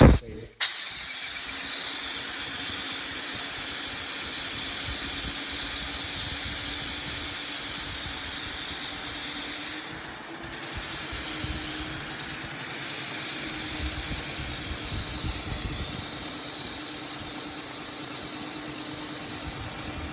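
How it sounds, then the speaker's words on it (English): An Erbauer EAPS600 paint sprayer spraying water hisses continuously and loudly for a long stretch, dipping briefly twice, with a low mechanical rumble underneath. "spray until it's water that's coming out again"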